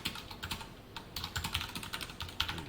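Code being typed on a computer keyboard during a Java programming lesson, a steady run of close, clicky keystrokes with brief pauses and no talking.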